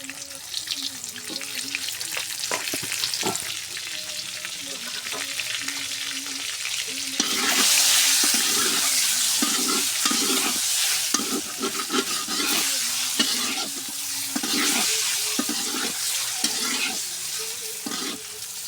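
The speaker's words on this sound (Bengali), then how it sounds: "ডিমগুলো ভাজা হয়ে গেছে" Eggs sizzle in a hot pan while a spatula scrapes and taps repeatedly; the frying grows louder and hissier partway through.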